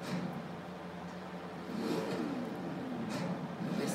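A car engine revs in the Forza Horizon 3 racing game, a moderately quiet mid-pitched engine rising and falling in a few short pushes under faint background music.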